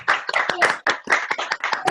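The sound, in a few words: online meeting participants clapping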